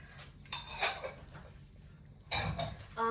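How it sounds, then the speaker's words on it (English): Spoon stirring chicken pot pie filling with heavy cream and milk in a pot, producing a few scraping, clinking knocks against the metal in short bursts with quiet gaps between, close by. "I'm gonna give it a quick stir"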